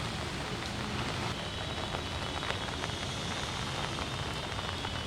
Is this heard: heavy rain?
yes